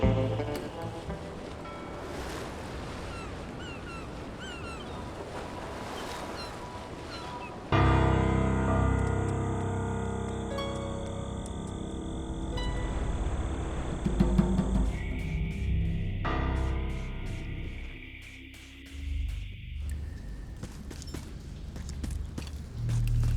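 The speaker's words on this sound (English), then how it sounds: "What's that sound? Oh, it's just the waves." Ocean waves wash steadily in the video game Return to Monkey Island, a broad surf hiss under a shifting ambient game soundscape with occasional tonal effects, no talking.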